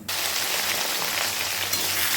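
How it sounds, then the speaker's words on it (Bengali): Potato pieces hit hot oil tempered with cumin seeds and dried chillies, setting off a sudden loud, steady crackling sizzle that continues close up and uninterrupted. "তেলের মধ্যে জিরে আর শুকনো লঙ্কা ফোড়ন দিয়েছি। এবার আলুগুলোকে দিয়ে দেবো।"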